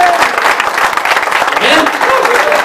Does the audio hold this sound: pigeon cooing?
no